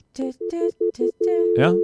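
A telephone line tone plays during a call-in radio show check of the phone lines. It comes as a string of short, clear pulsed beeps and ends in a sustained tone that warbles upward.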